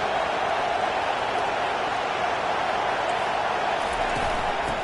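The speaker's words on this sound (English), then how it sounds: "Decibels rising as the crowd gets behind this defense on 3rd down" Steady, dense roar of a stadium crowd in NCAA 25 college football, swelling behind the defense on third down; a continuous loud wash of voices with no breaks.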